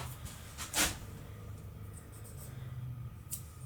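A pen marks a strip of tape during truck camper window work, making faint, brief scratchy squeaks against a quiet background.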